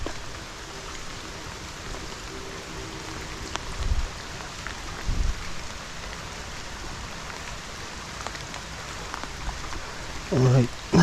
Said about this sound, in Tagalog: Alright, naulan.